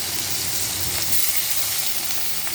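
Bitter gourd frying in hot oil in a kadai, a steady, dense sizzle that carries on without a break, close and loud, with faint stirring scrapes mixed in.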